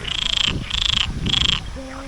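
A frog at a lily pond in a crocodile park, its cheeks puffing out as it calls, gives three loud, buzzing croaks in a steady rhythm, each about half a second long, close by with low outdoor rumble underneath.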